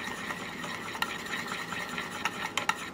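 Gentle stirring of gelatin in water in a container, soft swishing with a few light clinks of a utensil against the side, fairly quiet and close.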